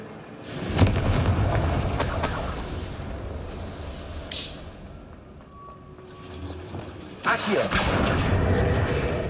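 Spell explosions burst out in Hogwarts Legacy, heavy booms and crashing debris in several waves with quieter rumbling between, under game voices.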